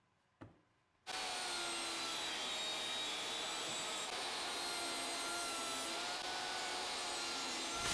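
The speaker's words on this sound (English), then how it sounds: "I'll start by following my cut list and my plans to cut all the pieces to size on my table saw and miter saw." After a brief clunk, a table saw spins up and whines continuously at steady high volume while cutting pieces of wood for a crosscut sled, close by with no talk.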